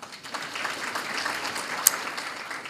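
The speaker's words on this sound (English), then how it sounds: "Little round of applause will help." A sponsors' event audience gives a modest round of applause, a steady wash of many hands clapping at moderate volume, fairly distant and even throughout.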